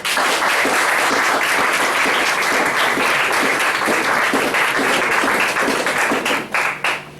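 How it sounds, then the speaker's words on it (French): Loud, sustained applause from a large crowd at a teachers' celebration, dense and even throughout, tapering off in the final second. "je vous demande de faire pleuvoir vos applaudissements de tonnerre"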